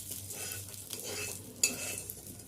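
Samosa masala is stirred in a pan, a soft, fairly quiet scraping and light sizzle with one brief sharper clink of the utensil against the pan.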